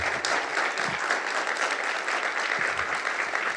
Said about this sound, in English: So I would invite you all to give not me, but the experts a big applause.